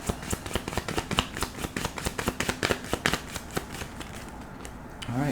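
Tarot deck being shuffled and drawn for a Virgo reading, rapid crisp riffling and flicking card sounds in an irregular flurry, close up, with a voice talking faintly underneath.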